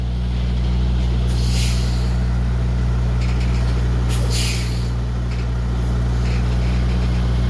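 A tractor-trailer truck backing into a Walmart dock, its diesel engine rumbling steadily and close with short bursts of air brake hiss.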